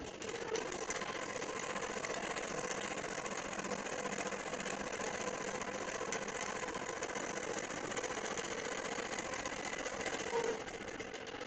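A computerized longarm quilting machine stitching edge to edge on a king-size quilt, a steady mechanical whir and rapid needle chatter running continuously at moderate volume.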